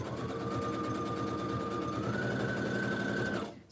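A sewing machine stitches a quilt block in one steady, close, continuous run of rapid humming that rises slightly in pitch partway through and cuts off at the end.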